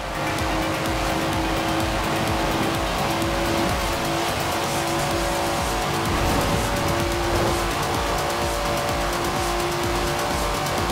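Datsun car driven fast through a city in the racing game Forza Horizon 4, engine roaring loudly and continuously with tire squeals and skidding, close and dominant throughout.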